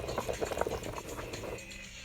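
Water bubbles and boils beneath a couscous steamer with vegetables, a soft, brief patter of bubbling close by.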